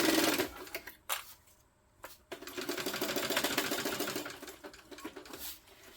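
A sewing machine stitches a tote bag in short bursts, its rapid mechanical whir and needle clatter starting, pausing briefly, then running steadily for a few seconds, close and moderately loud.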